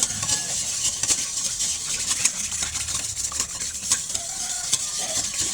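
Egg yolks being whisked with sweetened condensed milk in a bowl: quick, close, rhythmic scraping and clicking strokes that repeat steadily over a faint background hum, with no talk.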